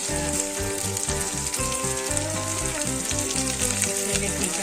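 Whole spices for a Maharashtrian mutton masala (pepper, cinnamon, cloves, coconut, cardamom and poppy seeds) fry in a pan with a steady, close sizzle that runs unbroken under a tonal, rhythmic music bed.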